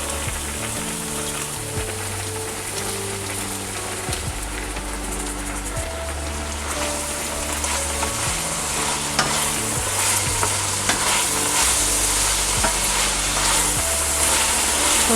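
Meat tibs frying in hot oil, a steady loud sizzle with crackling and spitting that runs the whole time, with stirring and pan sounds over it and no talk.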